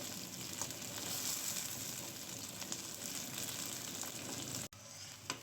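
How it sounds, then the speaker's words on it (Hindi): Okra fries in a pan for a dhaba-style bhindi masala, giving a constant close hissing sizzle with faint stirring scrapes and a brief dip near the end. "भिंडी हम भून रहे हैं।"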